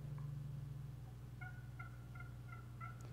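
A hand-operated turkey call, muted with an index finger, produces a quiet series of about five short, evenly spaced yelps over a steady low hum in an indoor event hall, with no talk.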